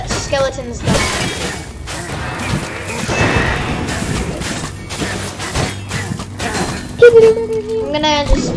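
Skeleton enemies in Minecraft Dungeons break apart with loud, sharp shattering crashes, one strong burst early and scattered clatters after, while children talk over the game.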